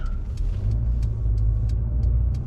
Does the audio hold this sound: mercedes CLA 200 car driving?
yes